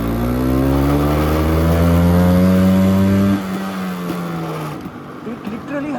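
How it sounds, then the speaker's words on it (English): A 25-year-old LML NV vintage scooter with a two-stroke engine, ridden in second gear, gives a loud, steady buzzing drone whose pitch rises slightly before dropping off, with wind noise and a voice speaking over it. "Let me keep this motorcycle in second gear."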